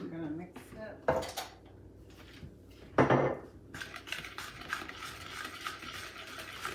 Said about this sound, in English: I'm gonna mix it.